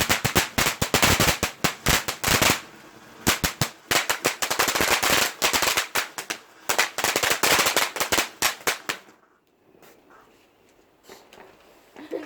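A rapid string of firecrackers bangs sharply and loudly on bonfire night, cracking in dense bursts for several seconds before cutting off to quiet outdoor background.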